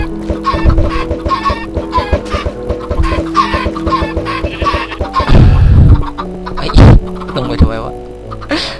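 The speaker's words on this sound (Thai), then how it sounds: "เราจะมาผลิตลูกไก่นะครับ ออกมาออกมา" Chickens in Minecraft make repeated short clucks and squawks, close and loud, mixed with game sound effects and a sharp crash-like burst near the end, with someone talking throughout.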